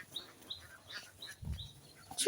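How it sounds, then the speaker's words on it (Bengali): Ducks and chickens in a village give brief, scattered chirps and calls, moderately near, over faint background noise and a few low thumps. "এখানে অনেক হাঁস মরক রয়েছে"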